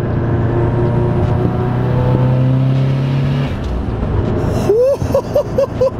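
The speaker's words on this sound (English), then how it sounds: "That's just a 4th gear pull with like a quarter throttle." A 500hp Subaru STI pulls in fourth gear at partial throttle, its engine droning loudly and steadily from close by, then easing off near the end with a few short rising whistling chirps.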